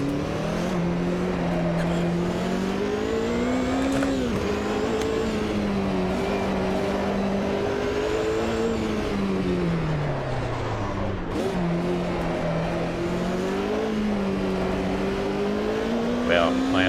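Loud race car engine from a racing video game, Group C car at Montreal, revving hard toward the redline with repeated rising pitch sweeps and brief dips at gear shifts, continuous and close throughout.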